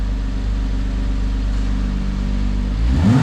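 A cold Porsche 987 Boxster 3.4S Sport Edition idles with exhaust flaps open, a deep, throaty rumble, steady and close, then builds briefly as the revs rise at the end.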